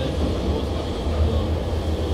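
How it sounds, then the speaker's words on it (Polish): A tram rolls along, giving a steady low rumble and hum close by, with no talking over it. "No co, jedziemy tramwajem."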